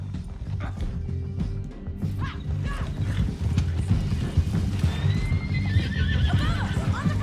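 Horse hooves clip-clopping and a whinny in Red Dead Redemption 2, steady galloping under ongoing action noise, with faint voices in the mix.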